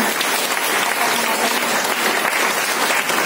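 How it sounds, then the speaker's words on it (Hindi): Continuous crowd clapping fills a Women's Day celebration gathering, a busy, even wash of many hands that holds steady from start to finish. "तालियां कमजोर पड़ रही है"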